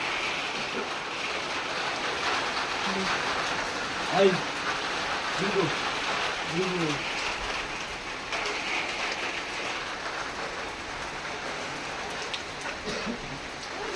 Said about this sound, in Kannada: ಇಷ್ಟು ಚೆನ್ನಾಗಿ ಮಳೆ ಬಂದಿದೆ ಇನ್ನೂ ಬರ್ತಾ ಇದೆ